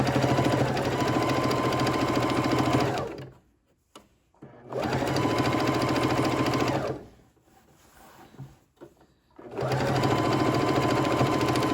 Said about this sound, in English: I'm just sewing over about the width of the presser foot